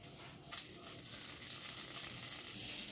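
Three to four spoons of butter melt in a pan on the stove while being stirred, producing a soft, steady sizzle and hiss at moderate distance with faint stirring underneath.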